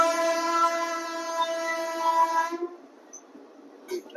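In the train, a steady, loud horn blares for about two and a half seconds, then cuts off, leaving a faint rumble and a soft click. The train is stopped outside a station near Tirupati on the AP Sampark Kranthi SF Express.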